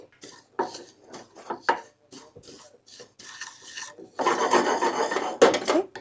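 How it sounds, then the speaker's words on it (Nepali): Black sesame seeds roasting in a frying pan for sesame laddu, stirred with a utensil, giving scraping, rattling and rustling bursts that grow louder and denser toward the end, with no talk. "यो कालो तिललाई चाहिँ एकछिन यो तावामा यो फ्राइङ प्यानमा एकछिन यसलाई भुट्ने"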